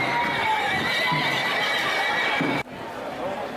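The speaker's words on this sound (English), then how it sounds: "in the end there will be well over 100 horses taking part." Horses at the Sant Joan festival in Ciutadella, Menorca, neigh and whinny amid a busy, dense crowd din, with hoof clatter and voices mixed in, loud and continuous.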